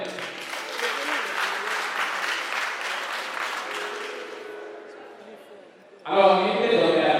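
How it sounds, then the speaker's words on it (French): An audience at a vocational school ceremony applauds for a graduating baccalaureate student, a dense burst of clapping that gradually thins and fades before a voice starts speaking near the end. "Applaudissez s'il vous plaît."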